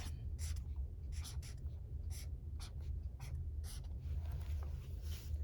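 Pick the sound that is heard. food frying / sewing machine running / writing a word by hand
writing a word by hand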